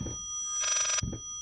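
A telephone rings in the horror video game Layers of Fear, one loud electronic bell burst of about half a second between softer thumps, near and clear, with no talking.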